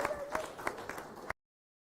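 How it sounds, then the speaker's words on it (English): Round of applause at a book launch, a few scattered claps sounding at a slow, uneven rhythm before cutting off abruptly, quiet and somewhat distant. "Can you give a round of applause"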